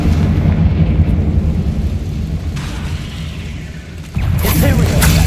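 A Confringo blast spell explodes in the video game Hogwarts Legacy, a loud, deep continuous rumble that eases off briefly and then surges back with a sharp burst near the end.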